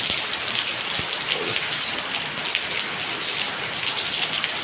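Heavy rain pours down in a dense, steady hiss that holds loud and unbroken throughout, with no voices.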